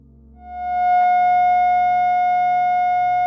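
Steady synthesized F sharp tone with faint harmonics, swelling in over the first second and then holding loud and unwavering, alone with no voices.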